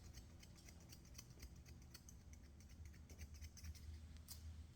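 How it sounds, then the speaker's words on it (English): Thinning shears snip at the hair on a shih tzu's face between the eye and lip, making soft, rapid clicking cuts in a steady series, close and quiet with no talking. "Carefully, I'm going to trim it with thinning shears."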